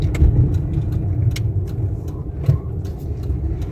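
An 18-year-old Jaguar XJ8 X350 cruising on a suburban road heard from inside the cabin: a steady low engine and road rumble, continuous and fairly loud, with a few faint clicks above it.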